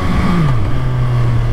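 An MV Agusta Brutale 800 motorcycle accelerates hard, its engine note climbing briefly then settling into a loud, steady drone heard up close.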